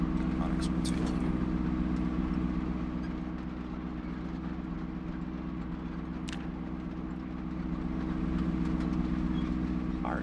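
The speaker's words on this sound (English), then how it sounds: "Car is obnoxiously loud." A car engine in the video game Project Zomboid drones with a loud, steady low hum and a harmonic buzz throughout, swelling and dipping slightly, while a person talks over it.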